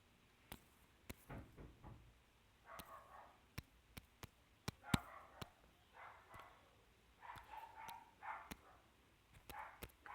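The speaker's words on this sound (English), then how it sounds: "If you can hear my dogs barking in the background" Dogs barking in the background of a home, several distant barks and yips in irregular bursts, faint behind sharp close clicks.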